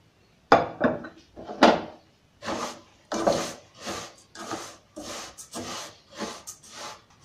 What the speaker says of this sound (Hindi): अब इसी तरह ज़ीरे को भून लेंगे।